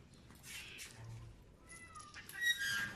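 A quiet indoor cat gives a couple of soft, faint meows and chirps against low background noise, short and sparse rather than insistent.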